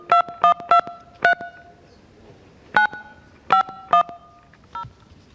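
A telephone keypad sends a run of crisp DTMF tones while dialing Verizon, four quick beeps, a pause, then more in an uneven rhythm, clear and close in a quiet room.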